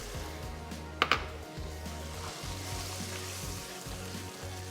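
Spinach and dill dropped into a sizzling shakshuka pan, two sharp clatters of pan contact near the start, then a continuous moderate frying hiss under a low steady hum.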